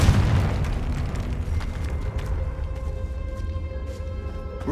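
Confringo blasting spell going off inside a tomb in the video game Hogwarts Legacy, a loud deep boom with a heavy rumbling burst at the start that settles into a sustained low roar and crackle.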